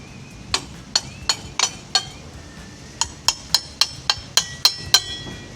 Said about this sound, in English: Give it a little hammer.